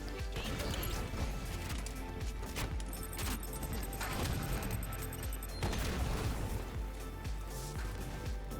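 The Spnkr Prime rocket launcher fires in Halo 5 gameplay, a dense run of heavy blasts, crashes and impacts amid busy battle noise, loud and close throughout.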